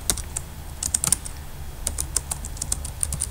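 Typing on a computer keyboard while entering code in a terminal on Mac OS X, with quick irregular clusters of close, crisp key clicks and short pauses, no voices.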